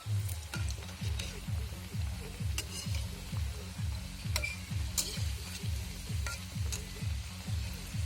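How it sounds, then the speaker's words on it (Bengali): Cabbage bora fritters fry in hot oil with a steady sizzle and bubbling, while a utensil occasionally clicks against the pan as they are turned. "এইগুলো আমি একটু কড়া করে ভেজে নেবো এই পাশটাও"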